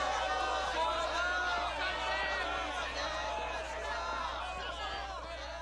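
An angry crowd gathered outside a school gives a dense, continuous babble of many overlapping voices, steady and fairly close, with a low hum underneath.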